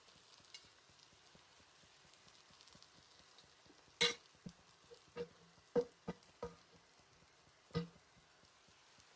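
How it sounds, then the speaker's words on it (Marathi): Squeezed pathari greens dropped into hot tempering oil, giving a faint steady sizzle broken by several distinct sharp pops and crackles spaced a second or so apart, close by and with no talking. "भाजी आपण फोडणीवर टाकलेली आहे"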